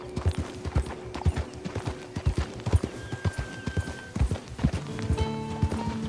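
Rhythmic clip-clop of horse hooves trotting on a hard surface in the video game Red Dead Redemption 2, steady and close, with a brief tonal game sound over them.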